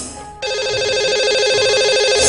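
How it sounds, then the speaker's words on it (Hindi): An outgoing telephone call connecting on a broadcast show line: a loud, steady electronic ring tone starts after a short quiet gap and holds, close and clear, with no voices. "लगाते हैं इन्हें कॉल"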